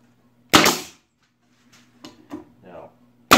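Pneumatic stapler driving 1.5 inch medium crown staples into a wooden pallet: two sharp, loud bangs about three seconds apart, with faint talk in between.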